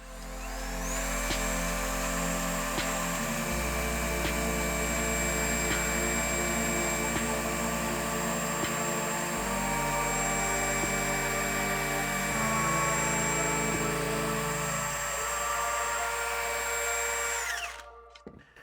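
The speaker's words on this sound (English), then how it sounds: "We're gonna put the coarse pad on and knock down this rust." A power drill whirs steadily with a coarse abrasive pad grinding rust off a metal part, continuous and loud for several seconds before spinning down at the end.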